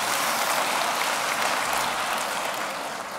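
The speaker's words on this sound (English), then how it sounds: "I'd like you to give a round of applause to yourself" An audience at a conference talk in a large, handsome building claps together, a broad hissing patter of many hands that runs evenly for a few seconds and eases slightly at the end, with no voices over it.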